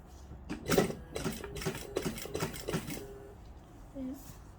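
A sewing machine runs in short bursts of quick stitching along the low V neckline of a beaded maxi dress, its fabric close by, starting and stopping several times at moderate volume.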